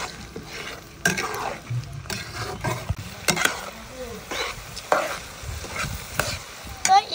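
Green chilli pickle being stirred in a pan with tamarind on the way, heard as repeated close scraping and clattering strokes over a low sizzle, with a few louder knocks at irregular intervals and no clear talk.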